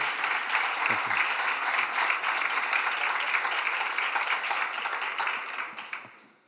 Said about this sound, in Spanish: le damos un aplauso a Irune